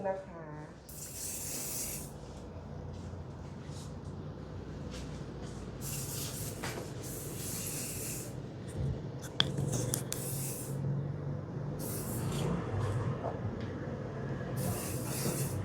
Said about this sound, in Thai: เราฉีดสเปรย์แข็งๆแล้วหรือเราสเปรย์อะไร